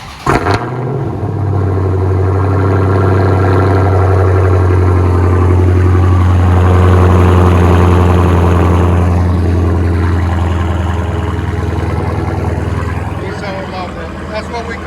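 Dodge Challenger Hellcat with a 6.2L engine and the rear muffler and resonator deleted, loud and close as it revs up, holding a deep rumbling drone for several seconds before easing back down.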